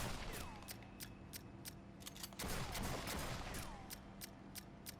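Kramer short-barrel shotgun from the game Aliens: Fireteam Elite fires in a steady run of sharp, evenly spaced blasts, with mechanical clacks and a reload-like whir in between, close and loud throughout.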